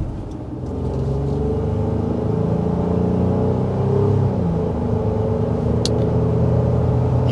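A 2025 Honda Ridgeline truck accelerating, heard from inside as a steady, rising engine rumble with road noise, continuous and fairly loud throughout.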